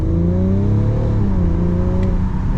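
A 2022 BMW X4 M40d with a tuned Stage 1 diesel engine of about 400 hp accelerates hard, a loud, close, continuous engine roar that climbs steadily in pitch as the revs build.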